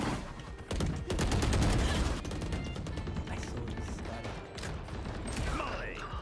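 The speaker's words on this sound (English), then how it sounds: "I'm just gonna shoot Molly." Video game gunfire in a Valorant-style round, with rapid bursts of close shots and clattering fire, loud at first and continuing under ongoing game sounds.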